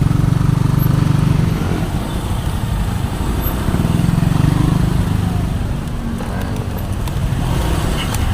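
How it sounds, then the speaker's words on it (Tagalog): Busy rush-hour road traffic in Cebu, with a steady low rumble of passing cars and motorcycles that swells and eases over about eight seconds, loud and close, with no talking. "Traffic situation at the road."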